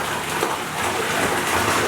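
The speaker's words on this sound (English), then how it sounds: "A really cool feature of this tub is where the actual water comes from" Water pours straight down from a ceiling-mounted filler into a luxury bathtub in a Beverly Hills home, a steady, fast, even gush that holds at a constant level with no talk over it.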